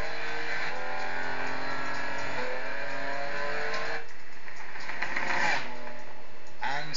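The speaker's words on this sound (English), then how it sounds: "pushing his Ferrari to nearly double the speed limit" A Ferrari Enzo supercar accelerating hard on a closed interstate, its engine rising through gears in a loud, rising whine with shifts, heard up close and continuous.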